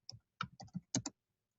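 Several quick clicking keystrokes on a computer keyboard, close and fairly quiet, tapped in an uneven burst that lasts just over a second, with no talking.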